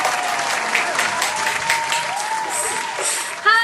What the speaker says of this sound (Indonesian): Yuk kita beri tepuk tangan untuk Tuhan.